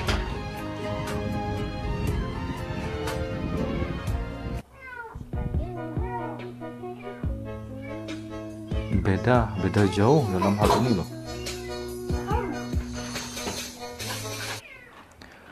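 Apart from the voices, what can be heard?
kitten meowing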